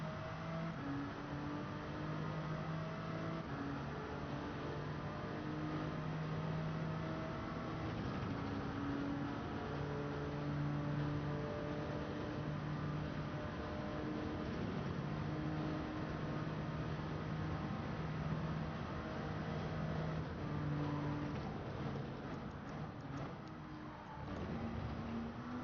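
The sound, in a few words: car engine bogging down in Gran Turismo 7 video game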